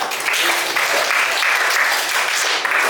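Schoolchildren in a classroom applaud during a lesson, a dense, steady burst of many small hands clapping together for about three seconds with no talk over it.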